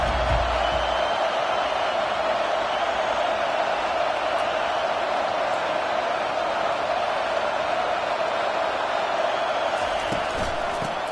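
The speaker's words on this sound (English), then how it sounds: "This crowd trying to show them what it's going to be like all day in this house." Stadium crowd in the NCAA 25 college football video game, a dense, constant roar of cheering that stays steady and loud throughout with no breaks.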